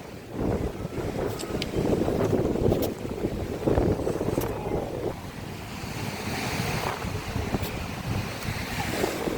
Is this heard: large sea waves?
yes